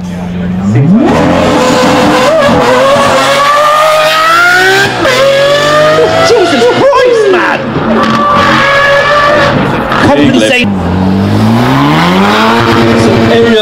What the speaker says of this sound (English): Lamborghini SVJ, ladies and gentlemen, cover your ears